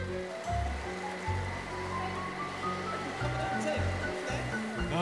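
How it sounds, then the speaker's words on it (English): Continuous water sloshing and splashing in a big pool, a steady wash of noise with a low hum underneath, under a voice talking. "I like the splashing."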